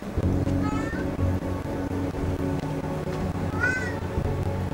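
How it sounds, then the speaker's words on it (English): A house cat meows twice, clear rising calls at the start and again near the end, layered over steady game music and sound effects while someone plays a stealth action game. "Yes, I hear you, kitty."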